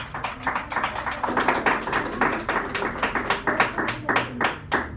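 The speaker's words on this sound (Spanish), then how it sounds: "Démosle un aplauso al Señor" Congregation clapping at a church service, offering praise to God, a dense, steady patter of many hands at moderate loudness with no voices over it.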